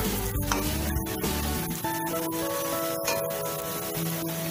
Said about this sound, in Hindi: सो मेरे वड़े उधर फ्राई हो रहे हैं